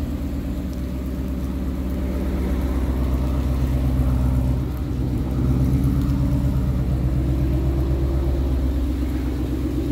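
A Mustang fitted with a Corsa exhaust and full BMR suspension, six-speed manual, rumbling with a deep, steady low-pitched drone from inside the car, loud and continuous with slight swells in throttle.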